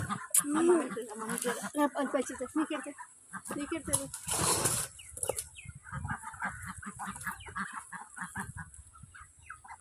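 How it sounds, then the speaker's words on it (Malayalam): Chickens clucking and squawking up close, joined by honking ducks, with people talking over the birds. "താറാവിനെയും കോഴിനെയൊക്കെ നോക്കാനായിട്ട്"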